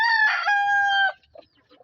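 A Darag native chicken gives one loud, close crow lasting about a second, followed by a few soft clucks alone in a quiet setting.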